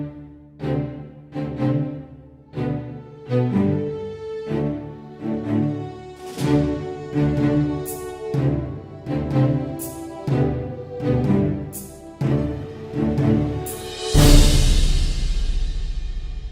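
Short orchestral notes and stabs from the Project SAM Free Orchestra library play in a steady rhythmic pattern of punchy hits, building to a loud, full crash near the end.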